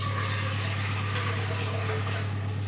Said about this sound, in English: Fill it up with a little bit of water